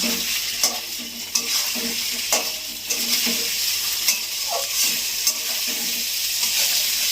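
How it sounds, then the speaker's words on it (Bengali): Fried potatoes and crab curry are stirred and sautéed together in a pan, giving a steady close sizzle with irregular scraping strokes of a spoon throughout and no talking. "এবার কষাবো"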